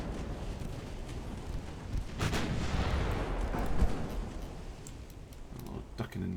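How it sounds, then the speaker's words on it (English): Naval shell hits and explosions in a 1930s British naval campaign video game, a rolling mass of booming blasts and rumble that swells in the middle and then fades into scattered distant thuds. "Oh, blew up the torpedo launcher."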